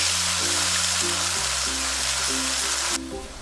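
Onion, ginger and garlic paste fries in oil with a loud, dense, continuous sizzle over background music, dropping away sharply near the end.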